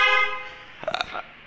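A Honda Click 125 motorcycle horn is tested, giving a loud, steady, buzzy tone for about half a second that then fades, followed by brief clattering noises close by.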